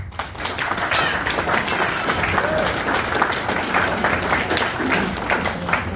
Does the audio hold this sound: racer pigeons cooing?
no